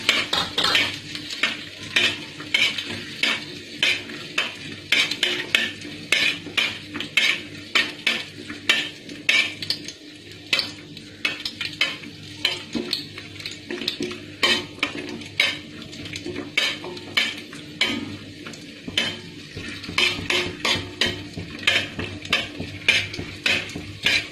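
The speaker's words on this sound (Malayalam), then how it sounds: "കാഷ്യൂനട്ട് ഉണക്കമുന്തിരിയും റോസ്റ്റ് ആയിട്ടുണ്ട്." Cashew nuts and raisins roasting in a pan, with a fast, steady run of metal spoon scrapes and clinks against the pan over a faint sizzle, close and continuous.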